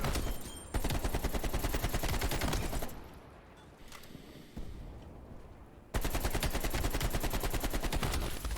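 Automatic gunfire in Call of Duty: Black Ops Cold War, rapid bursts of loud shots that stop for a quieter stretch with a lone shot or two, then resume at full intensity.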